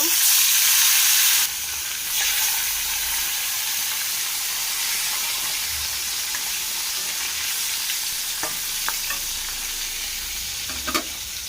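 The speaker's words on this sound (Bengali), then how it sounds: "এইভাবে আরও দুটো মাছ ভেজে নেব" Bhola fish frying in a small kadai, a steady broad sizzle holding throughout, loud at first then settling slightly, with a few light clicks of a utensil near the end.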